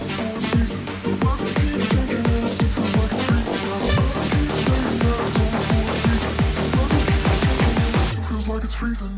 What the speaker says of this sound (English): the full build-up sounds like this